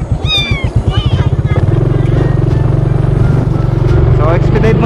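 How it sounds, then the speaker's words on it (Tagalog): A cat meows several times in quick, rising cries early on, close and clear, before a steady engine-like drone takes over beneath people talking nearby. "So, inampo na natin itong pusa."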